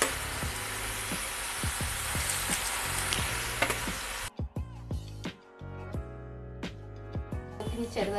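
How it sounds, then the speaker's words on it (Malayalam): Tuna pieces deep frying in hot oil for fish pickle crackle and sizzle loudly and continuously, with occasional stirring and sharp pops, then the frying briefly thins out before resuming. "നല്ല ഡീപ്പ് ഫ്രൈ ചെയ്ത് അച്ചാറുണ്ടാക്കാം."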